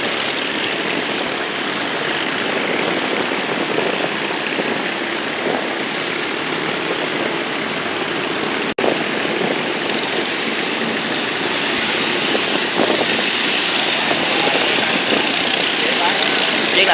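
A boat engine runs at high speed through a canal culvert, a loud steady drone throughout with a brief sharp break partway, while people talk over it.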